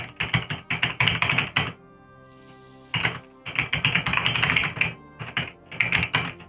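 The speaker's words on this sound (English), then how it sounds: "It's kind of weird when you hear some typing and you actually see the little message underneath there says a certain person was typing." Rapid keyboard typing comes through an online voice chat during a Destiny 2 session, in close, dense bursts of clicking that pause briefly and then resume.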